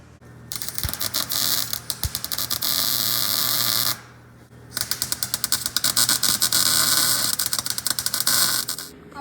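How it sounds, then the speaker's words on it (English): Angle iron for a 48V lithium battery mount is tack welded in two loud crackling, sputtering bursts of a few seconds each, separated by a short pause with a low hum underneath. "we'll just tack weld it in, and then we'll take the battery back out, and then we'll tack weld it in again"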